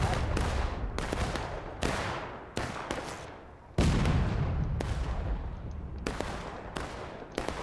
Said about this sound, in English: This is a brutal crossfire that the Union has.